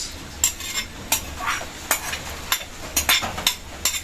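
Carrots are dropped into a pot of misua noodle soup and stirred. Sharp clinks and scrapes of a utensil against the pot come in an irregular rhythm over a low steady simmer, close and fairly loud, with no talking.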